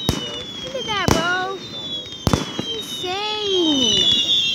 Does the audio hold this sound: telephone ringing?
no